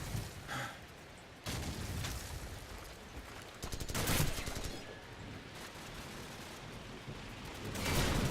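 Gunfire in Call of Duty 4: repeated bursts and sharp shots at irregular intervals, some loud and close with booming tails, over a constant background rumble.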